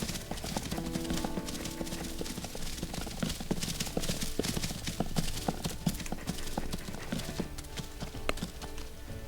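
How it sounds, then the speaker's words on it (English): Hooves clop steadily as a cow walks in the WolfQuest video game, a dense continuous run of hoof beats close by with no talking. "I think that's a cow."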